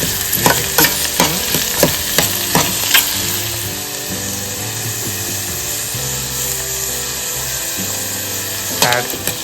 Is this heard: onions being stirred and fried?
yes